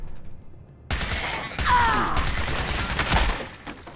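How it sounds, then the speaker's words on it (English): Rapid automatic fire from a radioactive submachine gun in Fallout 4, loud and close, rattling through most of the stretch after a quiet opening, with game effects layered over it. "It's a radioactive submachine gun that turns raiders into paste"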